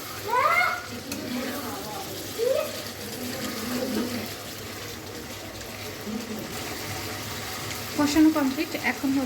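Pigeon meat and cut new potatoes sizzle in a pan as they are stirred, a soft continuous frying crackle with occasional scraping stirs, while people talk quietly in the background.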